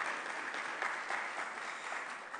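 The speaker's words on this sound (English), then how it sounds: "someone was applauding" Studio audience applauding at a film festival session, a steady wash of clapping hands throughout, moderately loud and even with no voices over it.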